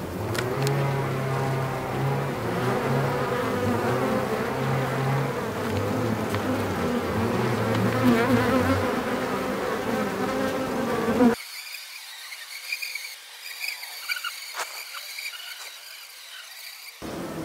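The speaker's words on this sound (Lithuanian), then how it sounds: "bitės kaip ir nusiraminusios," Honeybees buzz in a dense, steady drone close by, a loud continuous hum that later thins to a lighter, higher buzzing.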